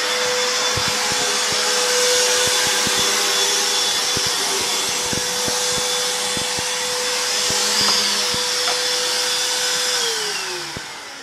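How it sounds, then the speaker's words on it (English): A vacuum cleaner running continuously at close range, a loud steady motor whine with a constant hum and rushing airflow, scattered clicks and knocks of the nozzle, pitch dropping slightly near the end. "vacuum time again"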